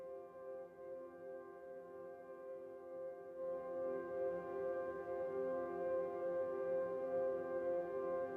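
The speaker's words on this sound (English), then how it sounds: "I'm going to play this really simple sounding chord and freeze the reverb tail." Sustained frozen reverb tail of a simple piano chord in Ableton Live, a quiet, steady drone of blended tones that swells slightly midway and holds without attack.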